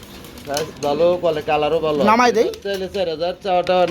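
Pigeons coo in a breeder's loft, where one bird sits on eggs; the soft calls are mostly buried under close conversation between people.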